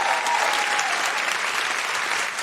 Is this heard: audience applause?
yes